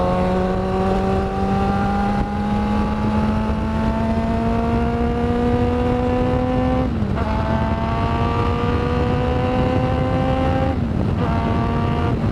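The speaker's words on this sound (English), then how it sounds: "when I actually open the throttle on this, it is quite loud and intimidating" A loud motorcycle accelerates hard with the throttle wide open while riding on a road. The engine pitch climbs steadily, drops at a gear shift, then climbs again and shifts once more.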